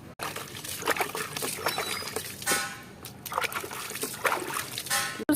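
A grandmother washes food in a basin of water, producing repeated sloshes, splashes and trickles at close range, with brief faint voices in the background.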